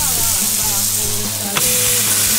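Beef rump (cuadril) sizzles steadily on a parrilla grill at a Father's Day cookout, a continuous loud frying hiss with faint stirring clinks and no talk over it.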